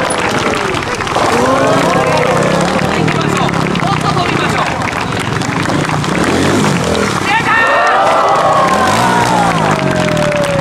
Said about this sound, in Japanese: ところが本田選手になると拍手が荒れます。